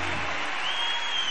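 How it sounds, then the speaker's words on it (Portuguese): Applause for pastors at a church worship event, broad dense clapping with a faint crowd murmur, steady and fairly loud through the short burst. "Palmas aos pastores."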